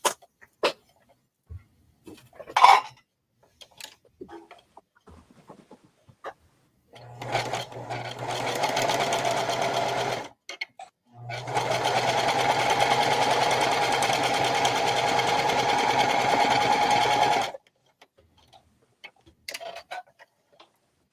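A sewing machine stitches straight across a seam on a tote bag made from bandanas, whirring in two sustained runs of about three and six seconds, with scattered clicks and handling noises before and after.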